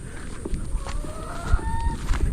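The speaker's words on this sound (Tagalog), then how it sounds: "Pakain tayo ng ating mga manok." Farm chickens cluck and call at feeding time, with short scattered squawks and clucks over steady low background noise, including a few drawn-out calls.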